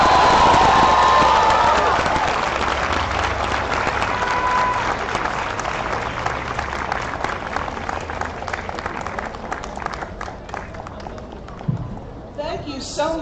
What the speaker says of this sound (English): Give her another round of applause, please.